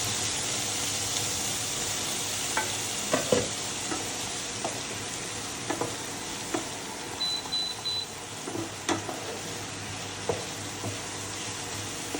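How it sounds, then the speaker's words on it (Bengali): Black cumin seeds frying in a pan make a constant soft sizzle, with scattered scraping taps from stirring and a short electronic beep partway through. "কালো জিরে এটা আমি এখন ফ্রাই করবো"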